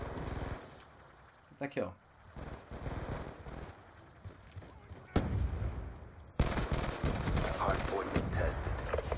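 Shotgun blasts in a Call of Duty Hardpoint match on the Standoff map go off amid a noisy firefight, with sharp bursts and a loud eruption near the end, while a player talks over the action.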